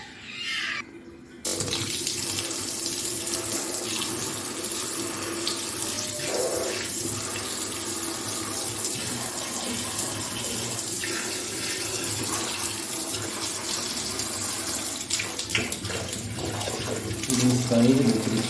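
Dirty, muddy water drains from a washing machine through a pipe, a steady close gush and splash running continuously for many seconds while a person talks.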